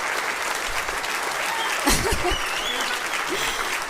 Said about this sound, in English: Can we please clap for the employees?